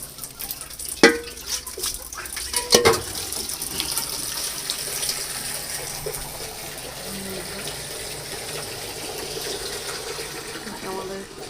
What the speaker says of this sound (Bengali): এখানে টাইম কলের জল ভর্তি হয়ে গেছে